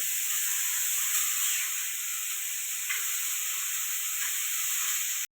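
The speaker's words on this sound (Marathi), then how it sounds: "हळद टाकायची आणि अशी परतून घ्यायची चार पाच मिनिटं" Turmeric sautés in a pan, a steady bright hiss of frying oil held close and even for several seconds, with faint stirring ticks and no voices, ending abruptly.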